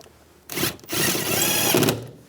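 An impact gun or power driver runs a bolt down in two bursts, a short burst followed by a longer steady whir, close and loud, while the lower bolts of the interior door trim panel are tightened on a 2015-2020 GMC Yukon.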